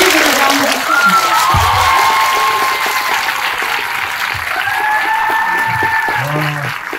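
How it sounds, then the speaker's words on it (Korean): A film-festival audience at a Busan International Film Festival guest talk applauds and cheers to welcome an actor, loud sustained clapping with scattered shouts and whistle-like cries, as a voice speaks over it. "일단 박수로 환영해 주십시오"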